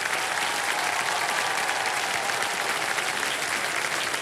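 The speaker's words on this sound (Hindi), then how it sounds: "जी, तो जोरदार तालियों से स्वागत कीजिए" Studio audience applause on the Kaun Banega Crorepati game show set, dense sustained loud clapping from a large crowd without a break, no talking.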